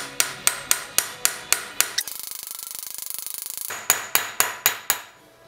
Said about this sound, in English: hopefully that will bash in with a little drift, which I'm going to use this socket for